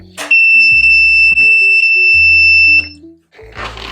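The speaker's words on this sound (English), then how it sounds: "Brace yourself for the beep." Walking pad treadmill emitting a loud, sustained electronic beep tone lasting a few seconds, followed by short lower-pitched beeps and a bit of shuffling noise.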